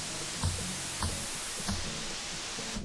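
Regular white noise from a Manatee synth's noise generator, a flat steady hiss held throughout, with a few faint soft thumps at regular intervals beneath it.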